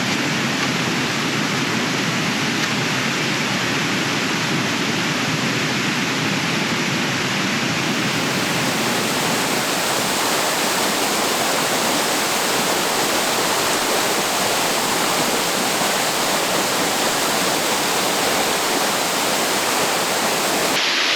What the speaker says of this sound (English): we're at our first real waterfall